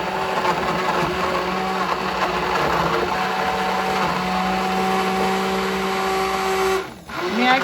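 An immersion blender whirs steadily at close range, blending red pasta sauce, its motor droning and churning for several seconds before briefly dipping and starting again.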